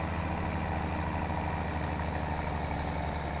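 A tractor engine in Farming Simulator 17 labours up a hill on the Goldcrest map, a loud, steady low drone with a regular throbbing pulse, no voices.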